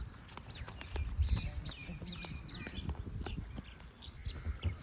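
A horse being led by its reins clip-clops at a walk, its hoof strikes landing in an irregular rhythm close by, with a few faint bird chirps and soft rustling around it.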